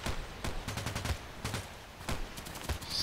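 Gunfire in the shooter Contract Wars: a quick sequence of sharp gunshots in short bursts and single cracks, some louder and some more distant, with no voices.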